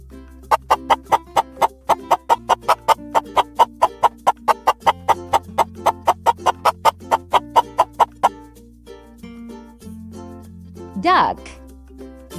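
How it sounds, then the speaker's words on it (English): A chicken clucks in a fast, steady run of short, sharp, evenly spaced calls lasting several seconds, close and clear over soft background music, ending with a brief higher call. "Chicken."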